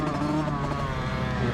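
A motorcycle engine revs high in a low gear during first-day track practice at the Wayne County Fair race, a loud sustained whine heard close.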